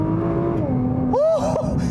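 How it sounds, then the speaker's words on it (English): A sports car's engine revs up hard while charging along a back road, a close, rising whine that swells sharply near the end, with no talking. "the engine sounds better when you start really pushing it"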